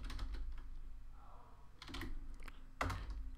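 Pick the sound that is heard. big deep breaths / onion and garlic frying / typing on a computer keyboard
typing on a computer keyboard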